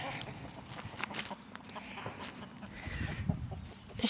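A broody hen in a homestead coop gives low, muttering clucks, close and fairly soft, with faint rustling and background noise between the calls.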